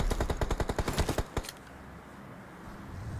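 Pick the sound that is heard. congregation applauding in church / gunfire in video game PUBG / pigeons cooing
gunfire in video game PUBG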